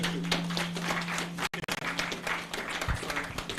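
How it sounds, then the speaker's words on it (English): An audience applauding a guest speaker at an economic outlook event, dense clapping across the room with a short dropout midway, while a low steady hum runs underneath. "A round of applause for our guest speaker, and by extension, his dear wife."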